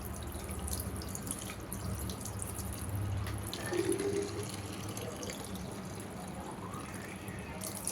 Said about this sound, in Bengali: গাছগুলোতে একটু পানি দিব, ঘরে যে গাছগুলা